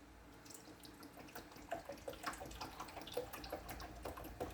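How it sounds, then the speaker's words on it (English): Vinegar pours steadily into a humidifier tank, a close splashing trickle with small gurgles and drips, no voices. "So I'll pour vinegar"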